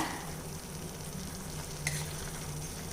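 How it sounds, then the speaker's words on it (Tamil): Tomato chutney sautéed in oil over a slow flame, giving a constant low sizzle with gentle stirring and a brief clink of the utensil near the end, close by and without talk. "இப்போ நான் அடுப்பை ஸ்லோ ஃப்ளேமில் வச்சே தான் நான் வதக்கிட்டு இருக்கேங்க"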